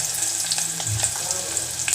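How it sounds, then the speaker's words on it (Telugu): Sliced onions with green chillies and seasoning spices fry in hot oil in a pan, giving a steady, close sizzle with a brief stirring scrape in the middle. "ఉల్లిపాయలు బాగా కలర్ వచ్చేవాటికి ఫ్రై చేసుకున్నాం"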